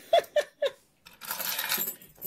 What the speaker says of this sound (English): Lots of keys.